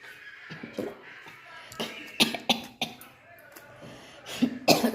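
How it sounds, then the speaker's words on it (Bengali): A person coughs repeatedly in sharp separate bursts, close to the mic, with throat clearing and bits of speech between. "অনেক কাশি হচ্ছে আমার"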